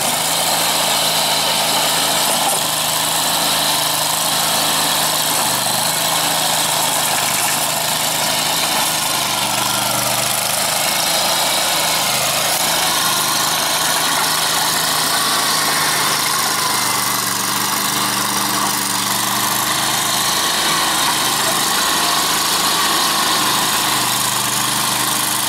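A Ditch Witch SK350 compact utility loader engine runs steadily for the whole stretch, a loud, constant idling drone with faint low rumble and mechanical vibration, close by and with no talk over it.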